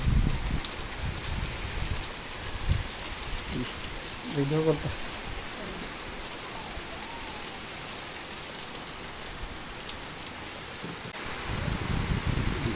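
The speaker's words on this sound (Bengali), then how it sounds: "দেখেন সবাই কত বৃষ্টি হচ্ছে।" Heavy rain pours down in a steady, broad hiss outdoors while gusty wind stirs trees, and a brief spoken voice comes through partway over the downpour.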